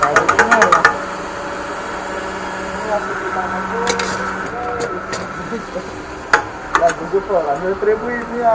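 Car engine running at a steady idle with a low mechanical hum and knocking, a burst of rapid ticks at the start and occasional clicks, while people talk over it.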